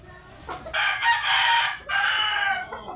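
A nine-month-old gamecock rooster crows close and loud, giving two raspy drawn-out calls separated by a short break.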